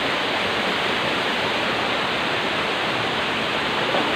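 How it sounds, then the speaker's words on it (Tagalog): Kulapniton Falls, a waterfall, pours in a steady, dense roar of rushing water that stays constant and close throughout, with no voices over it. "Ito yung Calapniton Falls."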